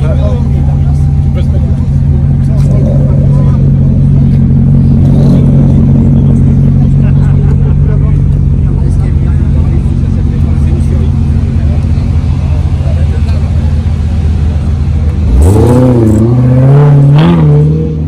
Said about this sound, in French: C'est des jolies petites Fiat, c'est sympa comme petit cabriolet ça.